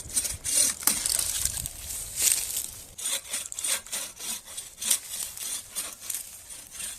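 Dead, dry tree wood is sawn by hand in a garden, a steady series of rasping back-and-forth strokes, close and fairly quiet, with no talking.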